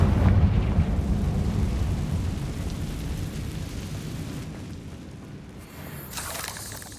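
Confringo spell explosion in the video game Hogwarts Legacy: a loud booming blast at the start that rolls into a long, fading rumble, followed by a smaller crackling burst near the end.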